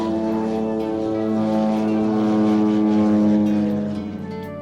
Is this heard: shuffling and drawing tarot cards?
no